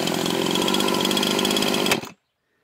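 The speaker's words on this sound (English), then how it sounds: "As soon as I put on the safety brake here, the chainsaw dies immediately." A chainsaw runs loud and steady with a rough, buzzing engine note, then cuts out abruptly as the safety chain brake is applied, dying into silence in under a second.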